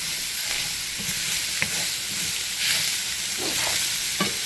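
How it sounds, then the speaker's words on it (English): Meat frying in a pan with fresh ginger gives a steady, bright sizzle, while occasional soft scrapes of stirring come through close up and no one speaks. "Stir everything up."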